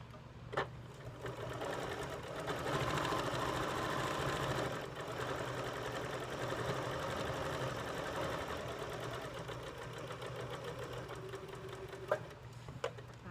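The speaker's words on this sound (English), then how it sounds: "I stick it in my machine, and I sew a 1/4 of an inch away from the line" A sewing machine stitches a quarter-inch seam on quilt pieces, a steady continuous whirring hum at close range with faint clicks near the start and end, no speech.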